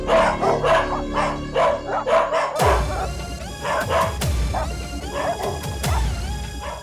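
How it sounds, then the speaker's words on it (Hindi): Several dogs bark loudly and repeatedly, with yips and whimpers, close by in a village at night during a Hindi TV serial scene. The barking is dense and overlapping, set over background music, and a crashing hit cuts in partway through. "ये कुत्ते ऐसे क्यों भौंक रहे जैसे इन्हें किसी पागल कुत्तों ने काट लिया हो।"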